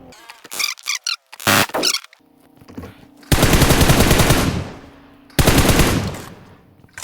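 Video game gunfire from a ranked solo shooter match, with rapid automatic bursts, two long loud sustained volleys and shorter shots before them.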